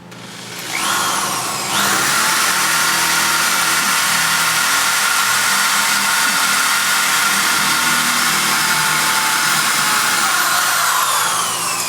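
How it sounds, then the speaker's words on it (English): An electric drill bores out a pilot hole, spinning up after a brief start and holding a loud, steady whine for about ten seconds with no voices. "with our electric drill, we're now going to drill out our first hole that we made just a second ago"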